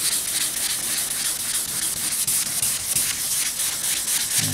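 Wet sanding the body of a 1977 Camaro Z28 with a sanding block, a loud, continuous close-up rubbing hiss of even back-and-forth strokes with no pauses.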